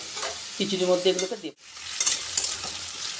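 Vegetables frying in a pan for khichuri, a close, steady sizzle with stirring noises; someone speaks briefly over it before the sizzle carries on alone.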